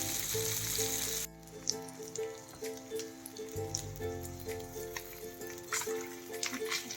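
Pomfret fish pieces fry in hot oil until browned, a steady close crackling sizzle with popping spatters and faint clinks, loud at first then settling into a softer, continuous fizz.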